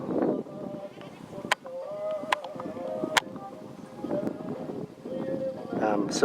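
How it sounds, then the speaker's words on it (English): Sheep bleat near Aleppo in rural Syria as a shepherd tends the flock, several wavering calls scattered across the scene amid wind and people talking nearby. "plus the shepherd tending his sheep"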